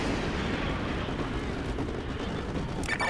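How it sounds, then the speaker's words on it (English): Artillery strike in Modern Warfare 2 Remastered: a steady, loud wash of rumbling blasts and debris noise fills the whole stretch, with a sharper burst of impact near the end. "Ramirez, use your laser designator to call in artillery on those vehicles. Fire mission received. Artillery inbound."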